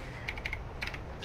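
A streamer's computer keyboard, quick light key clicks in small irregular bursts, close and fairly faint, with no talking.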